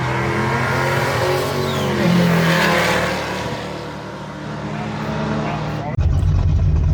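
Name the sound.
Datsun drag race car accelerating, 500 plus horsepower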